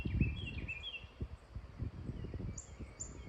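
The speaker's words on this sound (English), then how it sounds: "I love listening to the birds." Birds singing at the back of a rural property, several thin high chirps and short whistled calls at a moderate distance, with low rustling and handling noise underneath.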